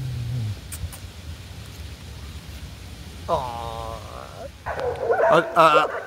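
Street dogs in Skopje, Macedonia, bark in short bursts in the second half, fairly close against a steady outdoor background hiss, with a low sound near the start.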